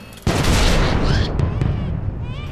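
Gunfire from Imperial Guardsmen escorting a Leman Russ battle tank in a Warhammer 40,000 audio drama: a sudden loud burst of dense, rumbling shots and blasts continuing under shouted voices.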